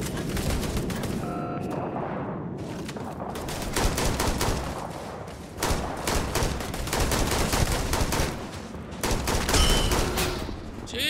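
Heavy gunfire in Starfield, with dense rapid bursts of shots and booming impacts filling nearly the whole stretch, loud and continuous with brief lulls, accompanied by other game sounds.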